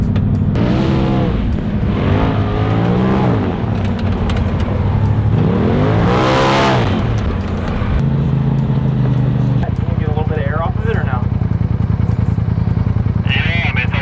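A Proline RZR side-by-side drifting through Glamis sand dunes, its engine revving and rising in repeated surges as it powers past, loud and close throughout, with people talking over it.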